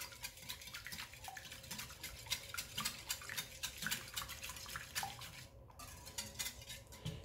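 A spoon clinks and scrapes rapidly against a bowl as sugar is mixed into a French toast egg mixture, in a quick, continuous rhythm of light metallic taps.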